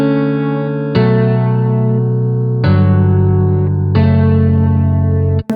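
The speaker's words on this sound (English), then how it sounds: "is you have your chords and you have a lead accent note, and that's going to sound like this" Programmed chords on a Darkstar acoustic guitar patch with a lead accent note, three strummed chords ringing out in turn with bright attacks, mechanical and evenly spaced, loud and alone.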